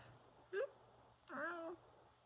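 A cat meows indoors in a quiet house: one short mew, then a pause and a longer, drawn-out meow, close by against a faint steady background hum.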